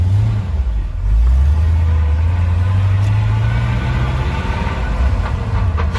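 A pickup truck engine with an NV3500 transmission drones steadily from inside the cab, a low rumble that shifts pitch as it moves through gears, with road noise throughout.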